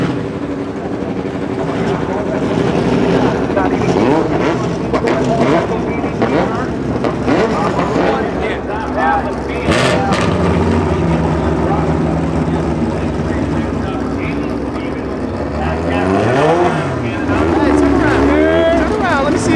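An LS-engined full-size pickup truck revs hard on the throttle, a loud, continuous engine roar that swells and dips in pitch, with voices heard over it.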